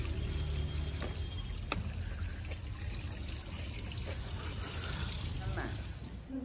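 Water from a broken pipe at a house in Himachal leaks in a steady, close trickle and splash, with outdoor background noise and no clear talk over it.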